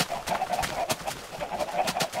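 Several Minecraft chickens on a chicken farm cluck in quick, overlapping bursts, a busy, steady clucking chorus close by.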